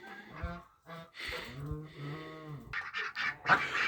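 Several domestic ducks quack and honk in a series of nasal calls, close by, some drawn out and others short and overlapping, with no voices.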